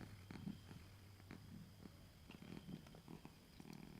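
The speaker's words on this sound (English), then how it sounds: "you can hear the cats" Cats purr nearby in a quiet room, a soft, low, rhythmic rumble with faint pulses and small rustles, heard alone without talking.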